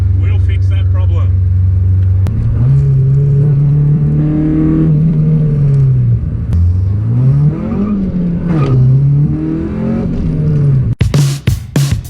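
K-swapped Honda Civic EG accelerating hard, a loud close engine note climbing steadily through the revs with a brief dip and recovery, ending in a few sharp bursts, with talk alongside.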